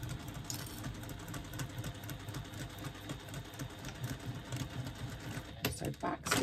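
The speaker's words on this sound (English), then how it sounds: "I'm going to stitch along the bottom of the lining using a 3/8 of an inch seam allowance" Sewing machine stitching along the bottom of a fabric pouch lining at a 3/8 inch seam allowance, a quiet rapid mechanical chatter running continuously with slight swells.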